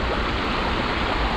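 River water rushes steadily during a river crossing, a dense, continuous close-up flow with no voices.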